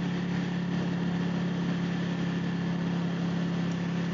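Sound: 2014 Ducati 899 Panigale motorcycle engine while riding

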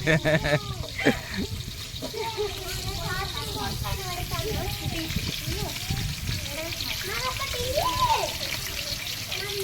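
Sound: onions and chillies frying in hot oil

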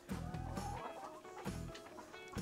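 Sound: chickens clucking

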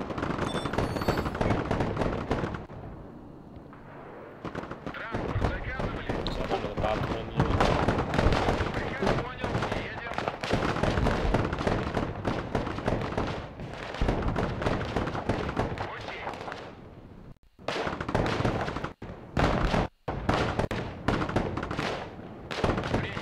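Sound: bombs exploding in the video game Broken Arrow

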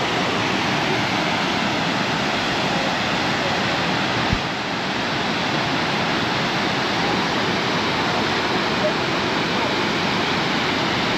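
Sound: waterfall

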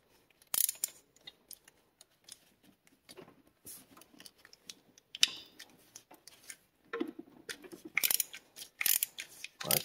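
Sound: loosening a part on a Mopar car with a ratchet

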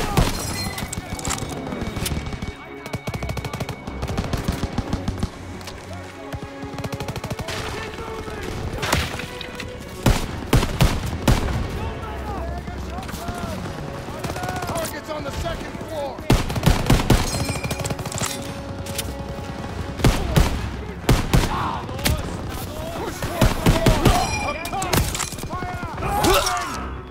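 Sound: machine gun fire in Call of Duty: WWII video game

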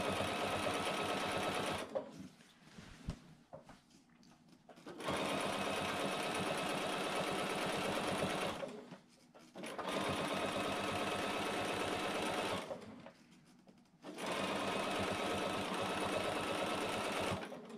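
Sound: sewing machine stitching binding onto quilt

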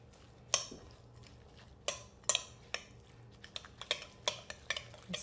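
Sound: stirring seasoned sweet corn mixture in a bowl

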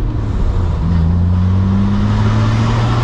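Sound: Nissan R32 GTR with equal length front pipe accelerating

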